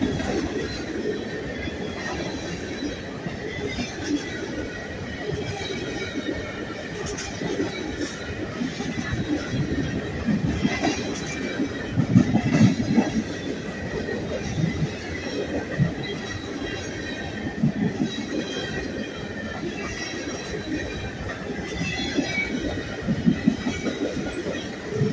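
A long CSX freight train rumbles steadily past nearby, with continuous wheel noise, rattling cars and occasional squeals over the whole stretch.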